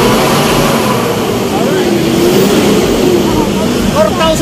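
A car engine revs steadily up to about 4,000 RPM, a loud continuous drone that stays even throughout, with someone talking over it.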